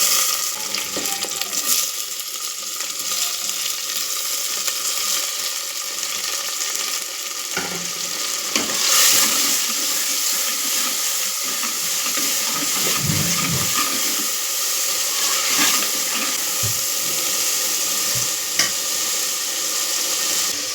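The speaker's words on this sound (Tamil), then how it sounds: "தக்காளி நல்லா வதங்கிட்டு இருக்கு" Three large chopped tomatoes sauté in a pan for stingray fish curry, giving a steady, close sizzle and hiss with occasional stirring scrapes and bubbling, heard alone without talk.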